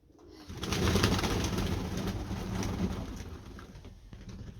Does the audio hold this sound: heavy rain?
no